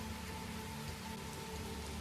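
Heavy rain pours steadily in a forest setting, a dense, continuous hiss of drops drumming on surfaces with no break, heard alone and close.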